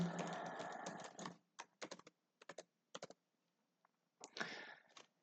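Keys clatter on a computer keyboard while login details are entered: a dense run of typing, then short separate bursts of keystrokes with pauses between them, close and clear with no talk over them.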